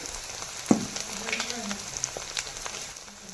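Bhopatri greens frying in oil with turmeric sizzle steadily at close range. A sharp utensil clank comes early, followed by lighter stirring scrapes, at moderate loudness.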